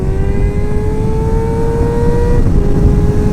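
Motorcycle engine pulling hard down the straightaway at Ridge Motorsports Park on a track day, a loud sustained whine rising steadily in pitch, then a brief dip as it shifts and climbs again.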